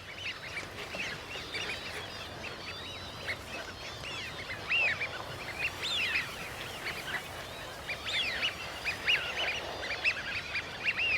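A flock of colorful ducks wintering in the northwest European lowlands of a river delta keeps up a steady chorus of honking, quacking calls at moderate distance, overlapping continuously with no voices.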